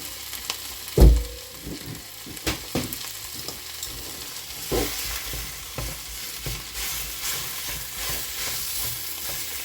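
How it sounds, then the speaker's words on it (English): Beef mince frying with softened onions in a pan for pie and mash: a loud bump and clatter opens, followed by repeated spoon scrapes and knocks over a constant sizzle, close up and without talk. "So I'm going to put the mince in because I've softened the onions a little bit."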